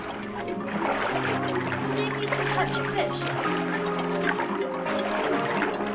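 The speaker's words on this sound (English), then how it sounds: "Swish the water about a bit." Water swishing and splashing in a pond scene of the Xbox 360 Kinect game Milo's world, a steady wash of splashy sound throughout, with a person talking over it.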